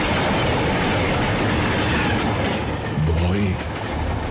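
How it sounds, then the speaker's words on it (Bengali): A locomotive engine rushing at close range, a dense roaring rumble with rail clatter throughout, swelling louder near the end as a dramatic sound effect. "একখানা ইঞ্জিন হুড়মুড় করে একেবারে তার দেহের উপরে এসে পড়ল।"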